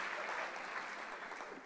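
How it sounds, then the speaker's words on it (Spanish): Steady, dense applause from an audience at a church gathering, filling the whole stretch without pause and heard at a moderate distance. "Un aplauso para todos estos grandes invitados."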